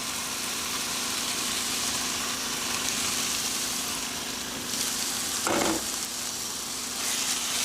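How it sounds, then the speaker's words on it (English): Meat for a weeknight Korean dish sizzles steadily in a hot pan, a continuous dense frying hiss with a brief louder crackle partway through. "I'm gonna kind of do a little test piece and make sure it sizzles"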